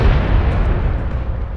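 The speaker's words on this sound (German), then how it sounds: "Fette Explosion noch am Ende." A heavy explosion from the space-combat strategy game Battlestar Galactica Deadlock rumbles loud and broad, a sustained booming roar that fills the whole moment without voices.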